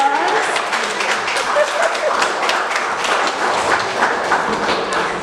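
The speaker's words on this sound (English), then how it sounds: "we need a round of applause" An indoor audience at a hip hop history tribute event claps and applauds continuously, a dense even patter of many hands throughout with no pause.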